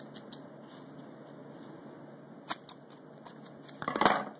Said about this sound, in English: cut a piece of this with scissors